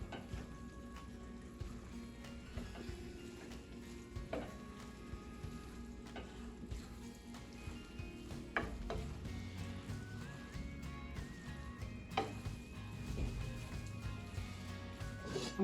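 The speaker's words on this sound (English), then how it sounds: "I'm going to cover that and let it saute for a couple more minutes" Vegan pad thai ingredients with a big batch of noodles sautéing in a pan, a steady low sizzle running throughout with occasional scraping and clinking from stirring, moderately quiet and close, no talking.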